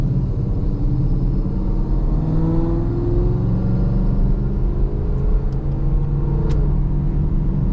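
A Chevrolet SS with its exhaust in stealth mode drives on a rainy night, giving a subdued, steady rumble that swells slightly as the car accelerates, with no speech.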